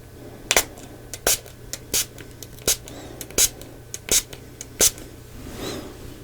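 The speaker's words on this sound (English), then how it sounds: "I will just give this a spray." A small pump spray bottle gives about eight short, crisp spritzes at an uneven, unhurried pace, close and soft over a quiet hiss in a calm ASMR roleplay setting.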